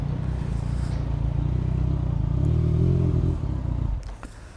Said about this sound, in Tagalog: Pero ang ganda ng tunog ng motor, di ba?